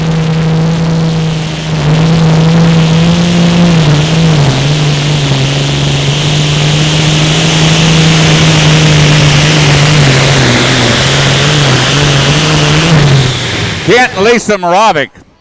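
A heavy tractor-pulling engine at an outlaw pulling event drones at a steady pitch, rising and falling slightly, then revs up sharply in bursts near the end.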